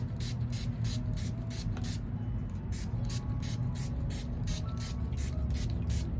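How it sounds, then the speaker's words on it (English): Rapid, repeated hissing sprays from a spray bottle misting orchid flowers, many short bursts in a steady rhythm over a low background rumble. "And I also will spray the flowers."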